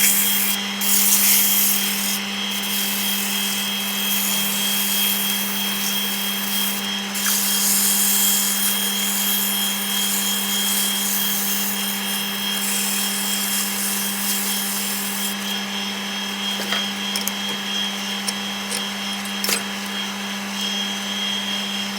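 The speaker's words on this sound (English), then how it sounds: "Sand off." A bespoke bent curtain pole tube is being sanded in a workshop, giving a steady, continuous abrasive rubbing that runs throughout alongside a constant mechanical hum, with no talking.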